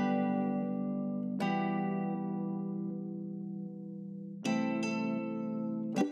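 A sustained bell-like synth chord treated with flanger, valve compressor and room reverb plays in a hip-hop beat production, held tones with bright attacks re-struck a few times, close and unaccompanied by voice.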